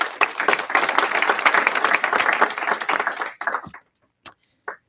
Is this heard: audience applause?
yes